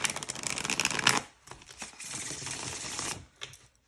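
A linen-finish oracle card deck is riffle-shuffled close up, a brisk flurry of cards followed by a second softer riffle and a brief final bridge, no voices.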